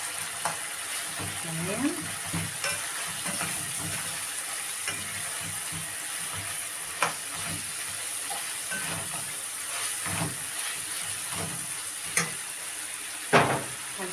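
Garlic frying in a hot pan after the water has cooked off, a steady close sizzle with occasional crackles and stirring clatter, someone speaking briefly over it.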